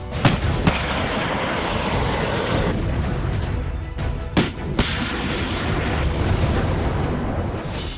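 Explosions from American Javelin missiles striking Russian tanks, a continuous loud rumbling blast with a few sharp bursts popping out over the roar.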